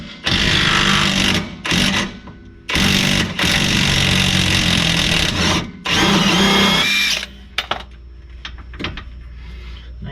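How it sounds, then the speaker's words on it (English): Impact gun loosening a 17mm rear shock absorber nut on a 2004-2010 Mazda 3, three loud close bursts of whirring hammering separated by short pauses, followed by faint clicks and handling noises. "you can do that with an impact gun"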